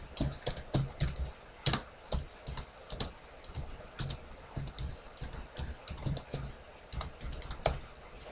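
Someone types a command on a computer keyboard, a steady run of close, crisp key clicks in uneven bursts with short pauses, no voices.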